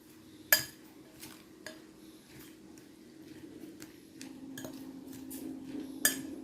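Sliced vegetables for okoy (squash, carrots, cabbage, onion) mixed in a bowl, with soft squishy tossing and a few sharp utensil clinks against the bowl, quiet and close, with no speech.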